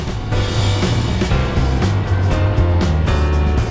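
A motorcycle engine drones steadily while riding on a scenic touring road, a constant low rumble with wind noise, close and fairly loud, with no talking.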